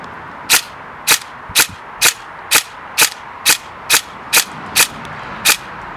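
A Tokyo Marui MK18 Next Gen Recoil Shock airsoft gun fires eleven sharp, loud single shots at an even pace, each crack carrying a brief mechanical recoil clack.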